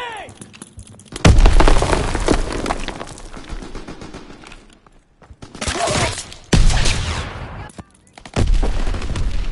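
Video-game grenade explosions in a PS4 shooter: several heavy, booming blasts with crackling gunfire between them. The blasts are loud and close, separated by short quieter gaps.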